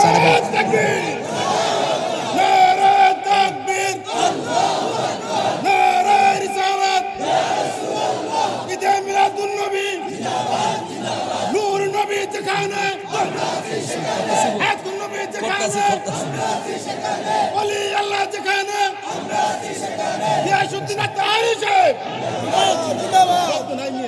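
A large crowd at a Bangladeshi outdoor religious sermon gathering chants a slogan in unison, loud rhythmic repeated shouts with steady collective voices and crowd noise throughout.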